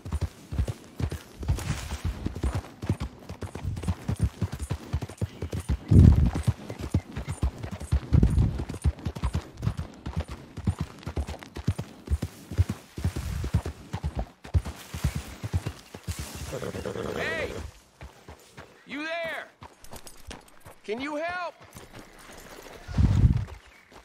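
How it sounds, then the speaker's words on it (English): Horse hooves clip-clop steadily in Red Dead Redemption 2, a dense running rhythm through most of the stretch, joined late by whinny-like calls and other game sounds. "Goddamn horse got spooked and run off."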